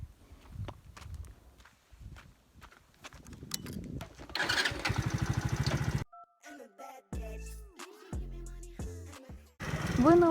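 A motorcycle with a broken fender and a dented tank starts up and runs loud and close, with the engine's valve noise, then idles briefly under nearby talking.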